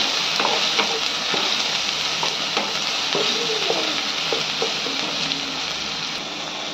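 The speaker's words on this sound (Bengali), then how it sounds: "দিয়ে মশলাটাকে ভালো করে কষিয়ে দিতে হবে" Ground turmeric and chilli spices frying in oil in a pan, a dense steady sizzle broken by spoon taps and scrapes at irregular intervals, no voices.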